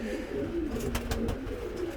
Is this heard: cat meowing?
no